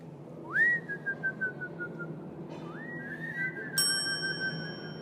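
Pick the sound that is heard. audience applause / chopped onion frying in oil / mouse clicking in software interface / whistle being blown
whistle being blown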